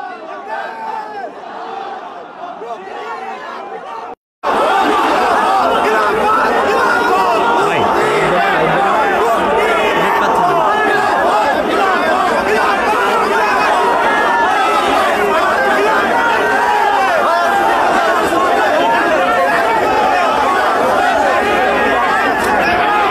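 A marching rally of the banned Hizb ut-Tahrir organisation moves forward from Paltan crossing, a loud, continuous crowd roar of chanting and chatter filling the street, briefly cut by a short gap near the start.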